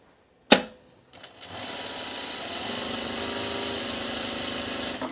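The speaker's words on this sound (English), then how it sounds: "I'm going to put an easing stitch in the cap here." After a sharp click and a short pause, a sewing machine starts up and runs steadily, sewing an easing stitch along a sleeve cap with a close, continuous rapid chatter and motor whir.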